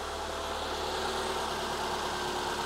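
A slightly cold car engine idling steadily at close range during a vacuum gauge check with the AC off, a constant even rumble and hum with no variation and no talk.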